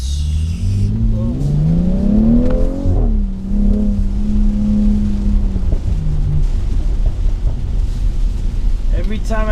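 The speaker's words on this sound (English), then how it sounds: "Every time I let off that throttle, you hear this pop, pop, pop, pop." A 2019 BMW X3 M40i engine revs up and sweeps down as the throttle eases off, then sits in a low, rumbling drone with rough crackle underneath.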